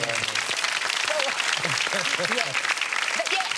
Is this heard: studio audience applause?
yes